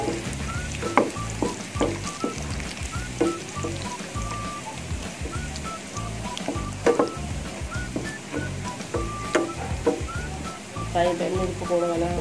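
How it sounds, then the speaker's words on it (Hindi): Red chili frying slowly in oil left over from frying pakoras, a steady sizzle and crackle underneath with a voice talking throughout. "लाल मिर्ची भी इसमें साथ ही डाल देंगे ताकि अच्छी तरह से ये भी पक जाएगा,"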